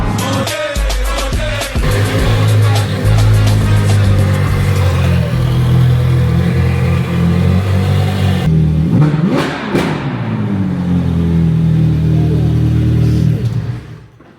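Lamborghini Gallardo engine revving loudly with its exhaust valves open, a deep sustained roar with rising and falling pitch swells, close and continuous, with music audible beneath at the start.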